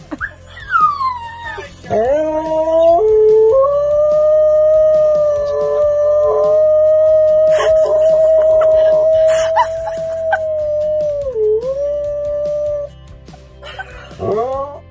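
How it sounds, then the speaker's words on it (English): Dogs howling back and forth over a FaceTime video call, long rising and falling howls that hold steady and then break into yips, loud and close, with little else around them. "Yeah, the dogs have a FaceTime date."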